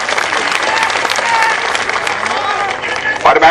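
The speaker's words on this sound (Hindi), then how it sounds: "आप सभी ने तालियां बजाकर हम लोगों का स्वागत किया है, अभिनंदन किया है" A large crowd applauds at the Halla Bol political protest rally at Jantar Mantar, Delhi: dense, sustained clapping at a loud level that swells slightly toward the end.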